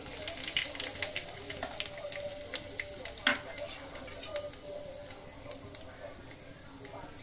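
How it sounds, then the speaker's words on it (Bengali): Nigella seeds and asafoetida crackle and sizzle in hot oil in a kadai, a steady close fry with sharp pops and a few stirring scrapes, no voices. "কড়াতে তেল দেওয়া হয়ে গেছে, এই যে কালো জিরে ফোড়ন"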